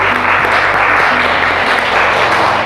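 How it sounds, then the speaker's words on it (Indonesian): Classroom of teachers in an Indonesian teacher-training practice session claps after a presentation, a short burst of steady, close applause with a faint low hum underneath. "Tepuk tangan dulu untuk kita semua."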